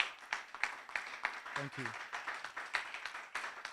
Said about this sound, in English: can we just have a round of applause to our two panelists?